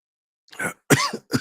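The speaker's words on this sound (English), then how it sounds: "I'm over here having a cough attack, man." Three harsh coughs from a man close to the mic in quick succession, the last one cut short, with silence before them.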